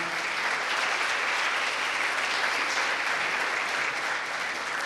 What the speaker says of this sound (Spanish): podemos darle un aplauso al Señor en esta mañana